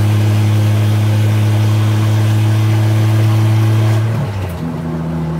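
A 2JZ-swapped Dodge Charger with a drag race radiator runs hot at a loud, steady idle with strong low harmonics, then the pitch drops and settles near the end as the engine note changes.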